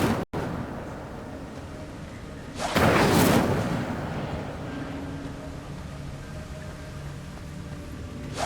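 An Incendio fire spell is cast in the Hogwarts Legacy video game, a sudden loud whooshing roar of flame that swells briefly, then fades into a low ambient rumble.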